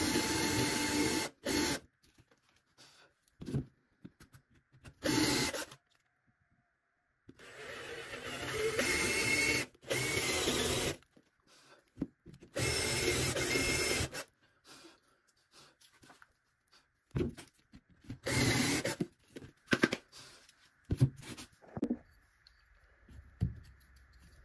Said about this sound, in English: Drill holes in our large cut to insert our sticks. I'll do this with a feather drill bit.